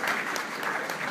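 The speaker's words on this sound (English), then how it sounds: "I want more applause than that" Audience applause at a World Affairs Council event, a brief burst of dense, steady clapping from a sizeable crowd, fairly loud throughout with no break.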